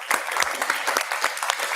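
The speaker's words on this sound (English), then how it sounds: "we can give the parents a round of applause for these girls from both years" At a South Gate city council meeting, the audience applauds the parents of honored girls, a fairly close burst of scattered individual claps over a steady wash of crowd clapping.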